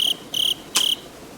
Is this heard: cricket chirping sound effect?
yes